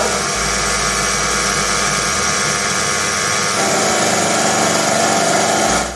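A metal lathe turning down a shoulder on a tool post makes a loud, steady mechanical whir with a constant hum, shifting slightly in tone partway through, close and without talking.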